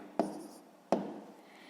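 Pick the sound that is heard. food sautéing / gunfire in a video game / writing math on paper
writing math on paper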